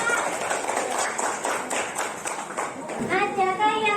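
A classroom of students claps for a group that has just presented in a computer accounting lesson, with quick, uneven claps from many hands. A voice comes in over the clapping near the end.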